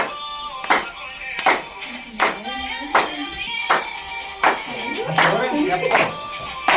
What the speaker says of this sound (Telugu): బాగుంది చప్పట్లు బాగున్నామ్మా